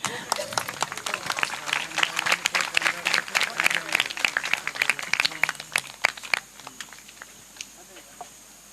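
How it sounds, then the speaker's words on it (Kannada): An audience at a Kannada dance-drama performance applauds, a dense burst of clapping that stays lively for several seconds and then thins out and fades, with a voice heard alongside it. "ಒಂದು ಪ್ರೀತಿಪೂರ್ವಕ ಚಪ್ಪಾಳೆ ಇರಲಿ"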